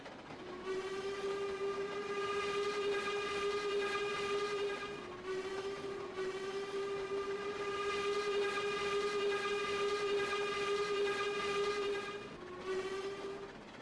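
A train riding along the rails with air brakes, heard as a loud, steady tonal whistle or horn-like drone with rich harmonics, broken by brief gaps, over continuous rail rumble.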